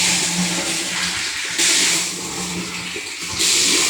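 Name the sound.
water filling a large tank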